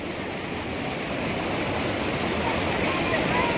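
River water rushes after heavy rain in Kutch. It makes a steady, broad, hissing roar, loud and close, with no break.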